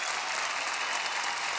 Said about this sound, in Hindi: एक बार बट जोरदार ताली हमारी जूरी के लिए।